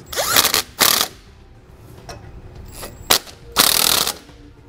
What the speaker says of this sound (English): We can come back with that same 9/16 socket and snug up those nuts.